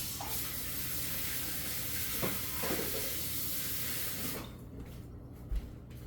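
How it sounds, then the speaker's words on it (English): Tap water running at a kitchen sink while hands are washed, a steady rushing hiss that shuts off about two-thirds of the way through, followed by a few faint clunks. "Let me wash my hands real quick."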